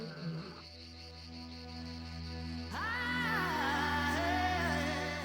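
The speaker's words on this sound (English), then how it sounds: "The sounds of unfamiliar roars have alerted Tamu to imminent danger." Unfamiliar male lions roar in Nakuru National Park, a deep drawn-out call swelling and sustained over a low rumbling background, moderately distant, with no talking.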